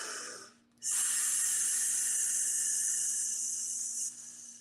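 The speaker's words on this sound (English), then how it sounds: "Breathing in." Slow, deep inhalation through the nose, a steady airy hiss lasting several seconds after a brief pause, fairly close and alone, as part of a guided breathing exercise.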